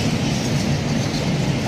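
A train passing on the West Coast Main Line at Nuneaton, a loud, steady close rumble and roar of wheels on rail that continues throughout, with no talk.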